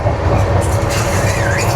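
Sapthagiri Express passenger train running on the line near Tirupati, a steady loud rumble of wheels and carriage noise with a faint high squeal, heard from inside or close to the coaches with no talk.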